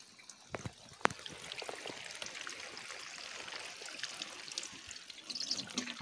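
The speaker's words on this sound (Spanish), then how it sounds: "Regamos un poco así." Water sprays and patters from a garden hose onto lettuces in a garden, a soft steady hiss with a few sharper splashes and clicks, fairly quiet and without speech.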